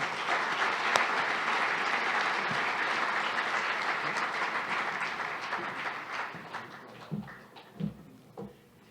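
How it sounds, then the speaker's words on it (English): Crowd applause at an evening event honoring the MC, a dense wash of many clapping hands that holds steady, then thins out into scattered individual claps and fades near the end. "A big round of applause for our MC this evening, Victoria Sanchez de Alba."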